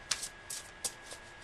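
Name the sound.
shuffling tarot cards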